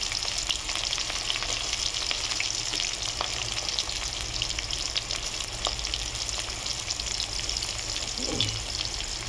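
Chopped onions frying in oil in a pan for chicken curry, a steady close hiss and crackle throughout with faint scattered clicks and a brief low scrape near the end.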